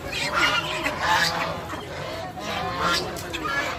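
Ducks and chickens at a large open-air poultry market in Dhaka, many nearby birds honking and quacking in overlapping bursts, with crowd voices in the background.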